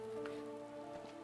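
Steady rain falls during a mountain climb in Final Fantasy XIV, a soft continuous patter with faint drops over a low steady game tone, with no talking.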